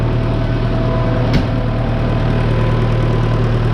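A tractor's diesel engine, run on red diesel, idles with a loud, even, low throb throughout. One short click breaks in partway through.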